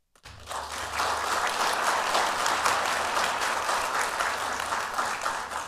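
An audience at a mayoral candidates' forum applauds steadily at the close of a candidate's speech, a sustained, moderately distant wash of many hands clapping without voices.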